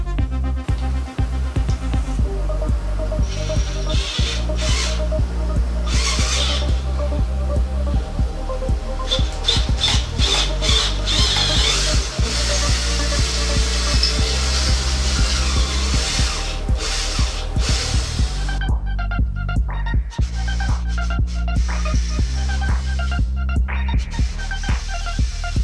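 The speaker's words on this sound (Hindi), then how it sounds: "थोड़ा ड्रिलिंग करके इसका होल साइज़ बड़ा कर देंगे ताकि जो बोल्ट है वो इसके थ्रू आर पार हो जाए।" A power drill enlarging bolt holes in a fog lamp mount for a Maruti Suzuki Alto 800 runs loud and steady with a throbbing hum, a few short breaks, and a change in tone near the end.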